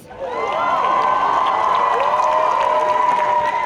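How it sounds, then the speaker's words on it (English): A crowd at a school annual day erupts in loud cheering and shouting for students, with clapping mixed in, sustained for a few seconds. "A bigger round of applause for our students."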